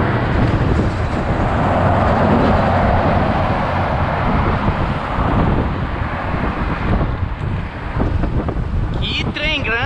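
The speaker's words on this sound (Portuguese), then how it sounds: "Que trem grande, viu?" A long train passing beside a road in Pernambuco, Brazil, heard by a cyclist as a loud, steady rumble with wind buffeting the microphone throughout, and a brief squeal near the end.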